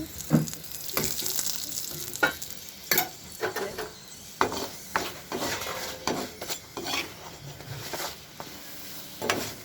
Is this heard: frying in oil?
yes